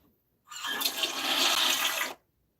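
A toilet flushes in a single rushing burst of water lasting under two seconds, loud and close, with abrupt silence before and after and no talking.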